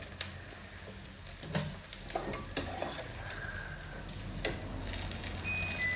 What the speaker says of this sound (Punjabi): ਦਾਲ ਨੂੰ ਆਪਣੀ ਤੜਕਾ ਲੱਗ ਗਿਆ ਪਿਆਜ਼ ਆਪਣੇ ਭੁੱਜ ਗਏ ਨੇ